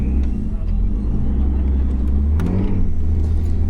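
A BMW 535d touring car's diesel engine drones steadily at speed on the Nürburgring, a loud low rumble from inside the car with a few faint clicks and rattles over it.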